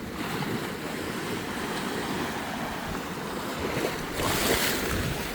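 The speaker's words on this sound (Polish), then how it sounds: "Ale dzisiaj są mega fale, naprawdę." Big sea waves break and wash continuously at Funtana beach near Poreč, Croatia, a steady, moderately distant roar of surf that swells briefly louder near the end, with no talk.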